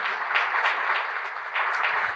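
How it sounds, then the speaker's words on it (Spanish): Church congregation applauding the Lord during a Spanish-language sermon, a steady wash of many hands clapping at close range, sustained and fairly loud throughout with small swells. "Se le va a dar un aplauso al Señor, díselo fuerte."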